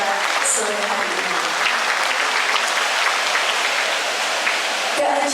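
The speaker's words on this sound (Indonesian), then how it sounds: "Kita berikan tepuk tangan yang meriah untuk acara kita sore hari ini." A crowd at an outdoor Christmas celebration in Wonogiri breaks into loud, steady applause, dense clapping sustained for several seconds with a voice audible over it.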